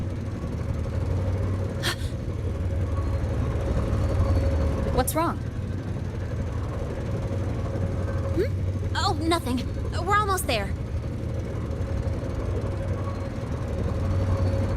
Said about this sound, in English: Whoa, look! The train caught up to us.